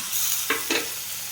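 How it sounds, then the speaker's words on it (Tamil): Onion and tomato puree sauté in a pan for Kerala-style kadalai curry, a steady close sizzle broken by two short scraping stirs, with no talking. "அதை ஆட் பண்ணிட்டு நல்லா சாட்டே பண்ணிக்கோங்க"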